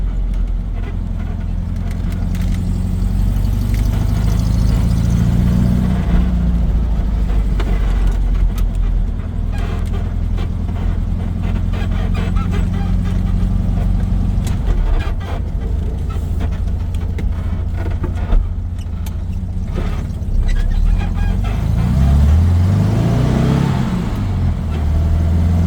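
A 1986 Volkswagen Beetle drives and works up through its gears. The engine drones loud and close, rising in pitch and dropping at each shift, running steadily for the whole stretch with no talking.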